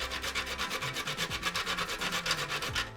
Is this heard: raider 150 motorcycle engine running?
no